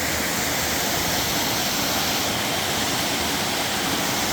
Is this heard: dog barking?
no